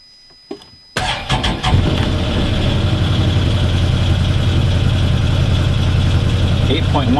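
A brand-new Can-Am Defender XT HD8 side-by-side engine cranks and catches after a second of quiet, then settles into a steady, loud, close idle with a low rumble that runs on to the end.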